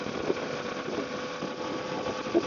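A Kawasaki Ninja 500 motorcycle sits idling, its engine giving a steady, even low hum up close with no revving or speech.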